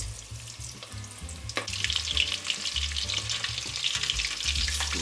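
Shrimp seasoned with Cajun spice fry in hot oil, a loud, continuous crackling sizzle close up with bursts of bubbling as more pieces are added, with no talking.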